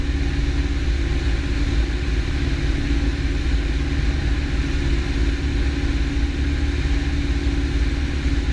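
A light airplane cruises on the downwind leg of a traffic pattern, its engine a steady low droning hum heard from inside the cabin, loud and unbroken.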